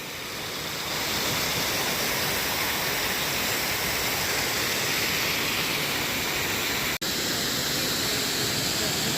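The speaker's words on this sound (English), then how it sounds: "That's the edge of the waterfall" Multnomah Falls in Oregon roars over the lip of the cliff, heard from right at the edge: a steady, loud, broadband rush of falling water that never lets up, with one brief dropout partway through.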